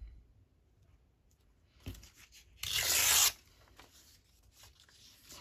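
Fabric ripped by hand for sewing pockets gives one loud, close tearing burst lasting under a second, with a small rustle just before it and quiet handling afterward in an otherwise calm room.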